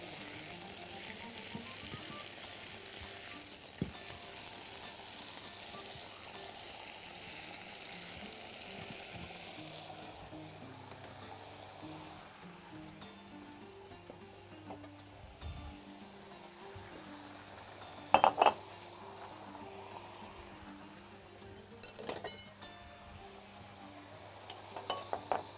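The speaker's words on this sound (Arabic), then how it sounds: "نقلب الفراخ تقليبة كمان" Chicken frying in a pan as it is stirred, giving a soft, steady sizzle under background music, with a few brief utensil clinks.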